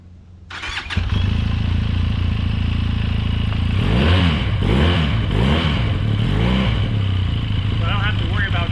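A fuel-injected six-speed Benelli motorcycle engine fires up, settles into a loud idle, then is revved in several rising and falling bursts close by before holding a steady running note.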